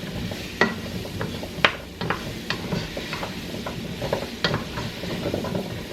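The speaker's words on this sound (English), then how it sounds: "we're going to throw our carrots in here. Just give them a stir." Carrots being stirred in a cooking pot while chicken is prepared, with soft scraping clinks of a utensil against the pot over a low steady sizzle, close and moderately loud, no talking.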